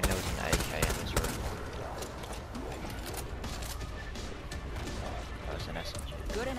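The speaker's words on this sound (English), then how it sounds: "That was an SMG." A submachine gun firing in the zombie shooter World War Z: short bursts of sharp shots, mostly early on and again midway, mixed into busy game noise while a person talks over them.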